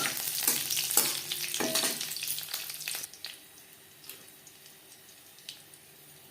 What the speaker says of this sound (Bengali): ফোড়নে দিয়ে দিলাম গোটা জিরে কাঁচা লঙ্কা